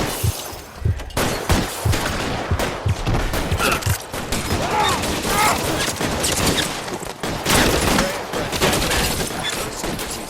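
Bursts of rapid gunfire and heavy shots fill a shootout in the video game LA Noire, loud and dense throughout, with shouted voices breaking in among the shots.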